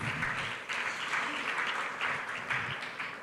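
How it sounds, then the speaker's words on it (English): Conference audience applauding steadily, a dense wash of clapping from many hands at moderate volume with small swells, no voices over it. "Once again, ladies and gentlemen, please give a round of applause."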